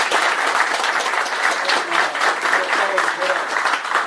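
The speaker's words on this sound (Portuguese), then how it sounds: "Palmas para o Quiré." Hall audience applauding in tribute after a moment of silence in a council session, a steady roar of many hands clapping together, fairly close and even in loudness, with a faint voice or tone underneath.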